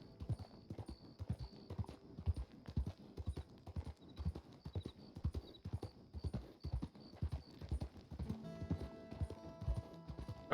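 Horse hooves clip-clop in a steady walking rhythm in Red Dead Redemption 2, quiet and continuous, with faint background game ambience.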